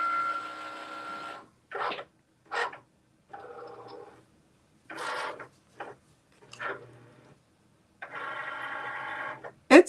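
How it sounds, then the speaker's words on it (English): A Cricut cutting machine working through printable vinyl, set to the printable vinyl specialty setting, heard as a sequence of short mechanical whirs and buzzing carriage moves separated by brief pauses, close and moderately loud. "I'm going to press go and let my Cricut cut that"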